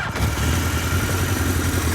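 A 1975 Kawasaki Z1B 900 motorcycle with polished engine and aftermarket exhausts runs close and loud, a steady low throbbing idle just after starting, with no voices.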